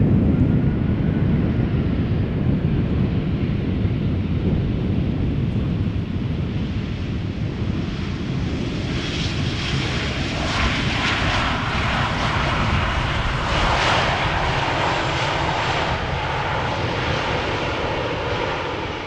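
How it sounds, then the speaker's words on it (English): A KLM Boeing 777-200 arrives at Amsterdam Schiphol Airport, its jet engines roaring in a loud, sustained rumble that swells and shifts as the airliner passes close, with some wind buffeting and no talk. "we are going to see a 777-200 from KLM arriving from Guayaquil"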